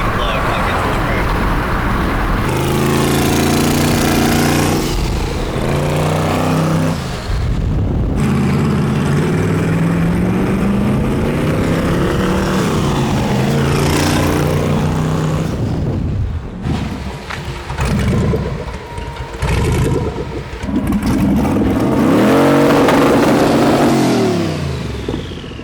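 Twin turbo LS engine on a dyno, revving hard in repeated surging pulls that rise and drop, stumbling and misfiring at times, loud and close.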